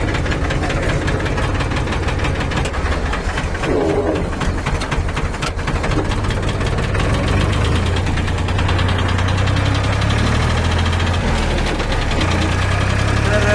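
A tractor engine runs steadily the whole time, loud and close, with a continuous low rumble and a knocking mechanical beat as it drives out toward a bypass road at night.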